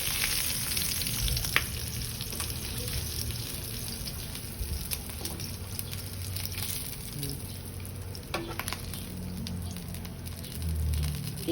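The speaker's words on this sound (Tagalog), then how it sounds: "We finish grilling the pork belly." Pork belly sizzles on a hot grill, a continuous crackling fry with scattered sharp pops and spits, moderately quiet and close, with some faint low clatter underneath.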